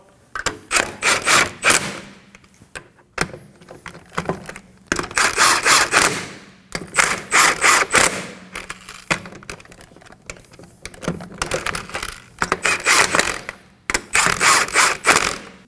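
Lug nuts being run down by hand onto the rear wheel of a 2016-2020 Kia Sorento, heard as rapid ratcheting clicks in repeated bursts separated by brief pauses, close and fairly loud.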